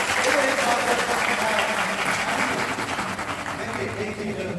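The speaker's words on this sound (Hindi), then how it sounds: "एक बार जोरदार ताली होगा" Sustained applause from an audience at a UPSC-CAPF 2022 felicitation ceremony at Hansraj College, Delhi, a steady broadband clapping wash that fills the whole stretch with faint background voices.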